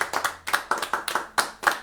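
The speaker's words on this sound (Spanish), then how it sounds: "Dale un aplauso al Señor con todo su corazón." A church congregation claps in rhythm, a run of sharp, closely spaced hand claps in quick bursts, moderately near and without talk over them.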